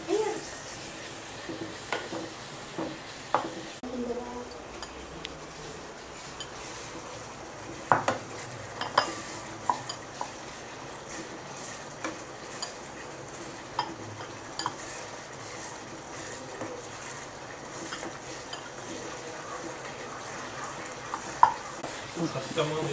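Onion and tomato masala with chilli powder, coriander, turmeric and cumin powder sautéing in a pan, a soft steady sizzle under scattered clinks and scrapes of a spoon stirring against the metal.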